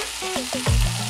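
Okra and potato fry in a pan, giving a brief burst of hot oil sizzle broken by a few quick scraping stirs of a spatula.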